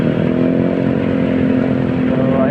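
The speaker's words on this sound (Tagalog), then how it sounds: "nandito na tayo sa gitna ng linya ng motorsiklo dito sa Commonwealth Avenue" Motorcycle engines in heavy traffic on Commonwealth Avenue, Quezon City, a loud continuous idling drone with a low rumble close to the microphone.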